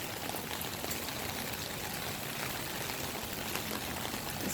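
Rainwater pours from a rain gutter draining three roofs during street flooding, a steady broadband rushing stream, constant and moderately loud with no voices.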